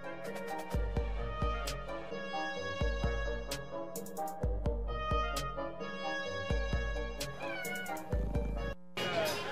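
A cat meowing in a television commercial, with repeated meows over a bright, rhythmic music bed, fairly close and clear throughout.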